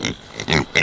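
A farm pig in its pen gives a few short, close grunts in quick succession, clear and fairly loud with no one talking over them.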